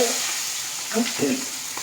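Crushed green chillies and shallots frying in a pan, a steady close sizzle with a few brief stirring scrapes and pops, no talk.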